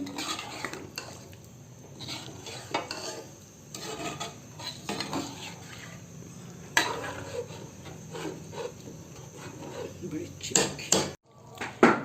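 A spoon scrapes and clatters in a pot of goat head dal being stirred, irregular metallic knocks and rubbing over a soft simmer, with occasional speech faintly in the background.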